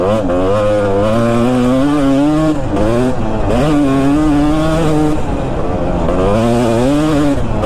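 A two-stroke motorcycle engine screams at high revs, loud and close, its pitch rising and falling repeatedly as the rider shifts and throttles through speed.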